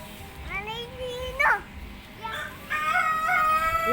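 A rooster crows in a short, rising call amid outdoor noise, with a voice heard around it.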